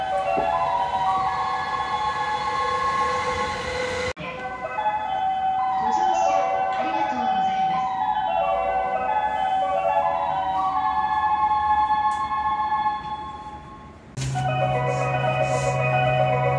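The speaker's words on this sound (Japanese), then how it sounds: "この常磐線各駅停車乗降促進メドレーをどうぞ。" Station departure melodies at local stops on the Joban Line play as a series of short electronic chimes, with abrupt cuts between clips and faint platform noise beneath.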